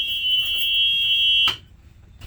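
School bus emergency exit buzzer sounding as a steady, loud high-pitched electronic tone for about a second and a half before cutting off, leaving quiet handling noise and a brief click at the end.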